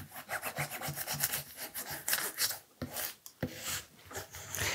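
Fabric is burnished onto an acrylic painting with firm, repeated rubbing strokes heard close up, each rasping pass rising and falling in an uneven rhythm, with no talking.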